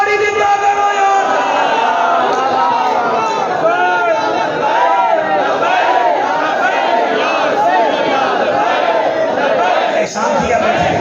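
A large crowd at a religious gathering chants the Labbaik slogan in loud, sustained unison, a roaring wall of voices rising and falling in waves that stays close and continuous throughout.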